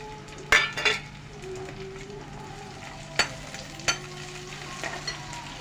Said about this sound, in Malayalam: അപ്പോൾ ഇതിലേക്ക് നമുക്ക് തക്കാളിയും കൂടി അങ്ങ് ചേർത്ത് വഴറ്റുക